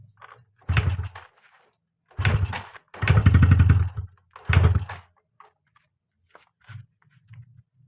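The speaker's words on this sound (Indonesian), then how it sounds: "Coba kita untuk melakukan proses penyalaan" A motorcycle that has sat unused and starts hard, cranked over in four separate bursts of rough, sputtering engine noise that fail to catch, with short silences between them and faint mechanical clicks afterward.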